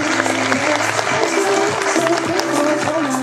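Applause at an equestrian show jumping competition after a rider's placing is announced, a dense steady patter of clapping with crowd noise and voices talking over it throughout.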